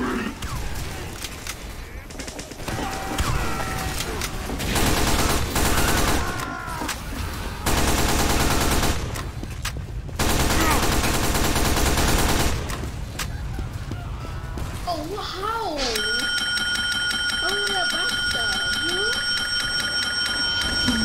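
Gunfire from the video game Team Fortress 2, including shotgun blasts, comes in dense loud bursts separated by short gaps, mixed with other chaotic game effects and ringing tones.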